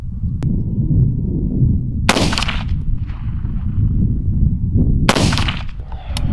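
Two rifle gunshots aimed at a target 75 yards away at an outdoor range, each a sharp loud report several seconds apart, over constant heavy rumbling wind noise.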